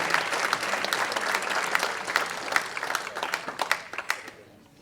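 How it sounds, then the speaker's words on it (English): Audience clapping at a chamber of commerce awards dinner, a dense round of applause from diners in a banquet hall with a few sharp individual claps standing out, thinning and fading away at the close. "Round of applause to Optimum"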